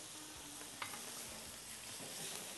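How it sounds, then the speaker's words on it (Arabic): Onion and garlic sizzle softly in a pan as a spoon stirs them, a faint, steady frying hiss with light scraping clicks and no talking. "نقلب البصل والثوم."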